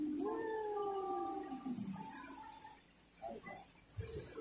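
A dog lets out a drawn-out whining howl, followed by a few softer whimpers and short yips, fairly close by.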